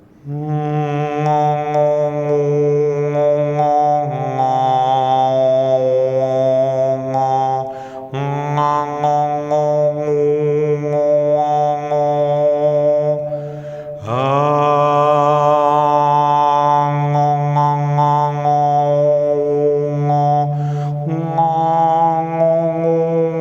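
A steady sung drone with a bright whistling overtone that shifts pitch in phrases, sustained and loud, with brief breaths between notes.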